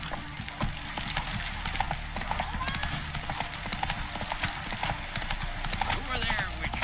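Roach, a horse in The Witcher 3, gallops with steady, close clip-clop hoofbeats that run throughout, with speech heard over them.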